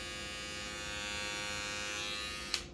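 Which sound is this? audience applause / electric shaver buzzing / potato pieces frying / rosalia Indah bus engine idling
electric shaver buzzing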